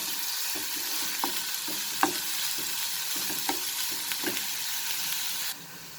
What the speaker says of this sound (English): saute them for near about half a minute